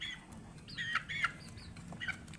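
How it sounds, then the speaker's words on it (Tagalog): Small chicks peeping in short, high chirps, a few scattered calls close by over a low, quiet background. "yung ating mga sisiw na maliliit, yan na sila ngayon"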